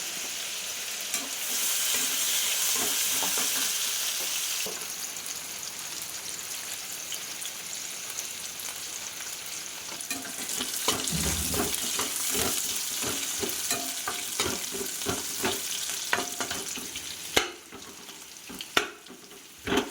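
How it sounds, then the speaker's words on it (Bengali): Jackfruit seeds fry in oil with black cumin and dried chilli, a dense continuous sizzle like rain on a surface, later joined by repeated stirring scrapes and a few louder knocks of the utensil near the end. "কাঁঠালের বিচিগুলো একটুখানি ভাজা করে নিচ্ছি"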